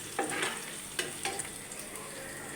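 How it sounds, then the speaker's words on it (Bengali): Onion and chili fry quietly in a pan, with a soft constant sizzle punctuated by a few sharp scrapes and taps of stirring; no speech. "এখানে একটু পেঁয়াজ মরিচটা ভাজা হোক"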